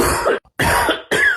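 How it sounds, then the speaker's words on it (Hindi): Three harsh, close coughs from a person with a persistent cough, each burst separated by a brief silence, loud and raspy with no speech. "अरे यार खांसी हो गई है, जा ही नहीं रही"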